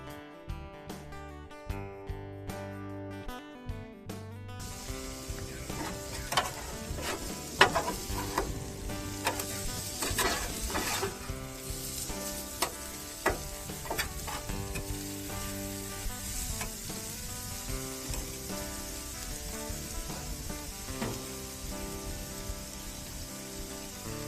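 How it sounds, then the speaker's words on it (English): Thin-sliced pork steaks for fajitas sizzle on a Blackstone flat-top griddle. A loud, steady frying hiss is dotted with sharp crackles and pops and runs continuously up close with no talking. "I cut them up thin and I added them back to the flat top so I can add some color to them"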